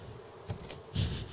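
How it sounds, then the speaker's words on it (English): A net catcher in the survival video game Raft gives off a faint, steady buzzing whirr that swells louder near the end, with no talking. "that's the sound of the net catcher"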